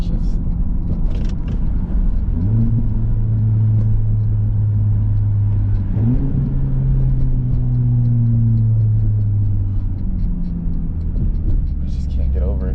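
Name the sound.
Honda Civic Type R exhaust downshifts, muffler and resonator deleted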